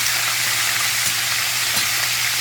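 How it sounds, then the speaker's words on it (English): Fish for Jamaican brown stew fries in a pan, a dense, steady close-up sizzle of hot oil with faint pops and no voices. "for a little bit longer to fry on the other side"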